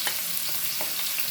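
Ginger hits a hot pan with a bright, steady hiss and sizzle, close and even, broken by a couple of faint clinks, with no voices.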